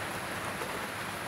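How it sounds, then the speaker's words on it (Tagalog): Steady, dense hiss of heavy rain pouring down, loud and unbroken, with no voices. "kusog pang ulan"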